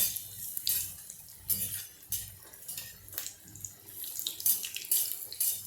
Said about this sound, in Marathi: आता हा दुसरा वडाही मी यामध्ये टाकते आणि आता हे वडे आपण तळून घेऊया